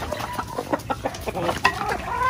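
Chickens cluck in a rapid, uneven series of close clucks and short calls in a farm pen, with a continuous hiss of background noise.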